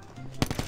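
Cordite gun firing in Call of Duty Mobile, a loud rapid burst of several automatic shots starting abruptly after a brief quiet moment.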